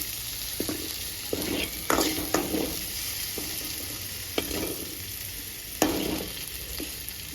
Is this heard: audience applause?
no